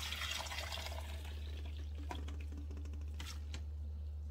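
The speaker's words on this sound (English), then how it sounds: "so I am going to filter this cabbage." Water from boiled cabbage pours off through a strainer into a sink, a soft splashing and trickling under a steady low hum, fading to scattered drips.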